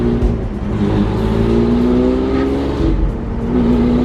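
A Lamborghini Aventador V12 roars loudly from inside the cabin as it accelerates, its engine note climbing and then briefly dropping at a gear shift.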